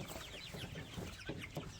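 Laying hen clucking, with short soft clucks and chatter repeating in an irregular rhythm, close by and moderately quiet with no talk.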